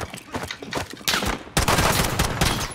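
Rapid gunfire in the shooter game Call of Duty: Warzone, bursts of close automatic shots in quick rattling volleys with short gaps, then a louder sustained stretch of firing.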